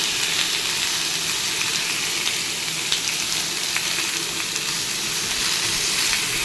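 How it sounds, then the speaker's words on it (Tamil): Oil sizzling and frying steadily in a pan over medium-high heat while cooking an Odisha-style snake gourd masala, a loud continuous hiss with faint crackles throughout and no talking. "இப்போ வந்து ஆயில் வந்து நம்ம ஊற்றிடலாம்"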